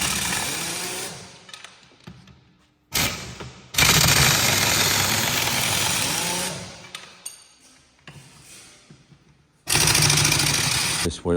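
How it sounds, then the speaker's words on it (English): A small Toyota industrial forklift carries wheels across a farm yard into a workshop, its loud engine revving and droning in long bursts broken by quieter pauses, close to the listener. "This little Toyota industrial forklift is really handy for nipping about the yard and going in sheds and things."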